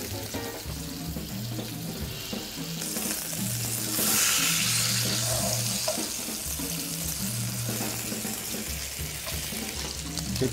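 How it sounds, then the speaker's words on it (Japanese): Beef and vegetable rolls frying in a pan over medium heat as they are turned to the next side, a close steady sizzle that swells louder midway, with a low hum underneath and no talk. "次の面焼いていきます。"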